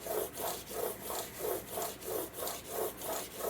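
A broadhead stroked back and forth on an 800 grit sharpening stone, about ten evenly spaced soft raspy rubbing strokes in a steady rhythm, close and quiet.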